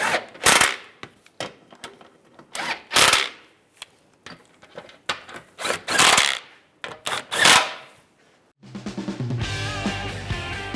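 A bolt on a Chevrolet Silverado differential bracket is tightened with a rapid-firing impact tool in loud, uneven bursts, ending in a few seconds of music.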